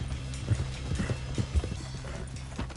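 Horse hooves clip-clopping at a gallop in the Red Dead video game, a quick run of close hoof thuds with a brief whinny, no talking.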